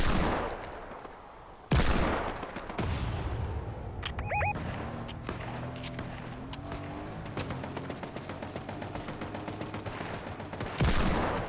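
Hand cannon gunfire in Fortnite rings out as sharp, loud reports, a burst at the start and another near the end, with scattered distant shots and game effects between them.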